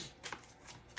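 Tarot cards are shuffled in a quick, soft riffle of three short papery bursts, faint and close, with no voice.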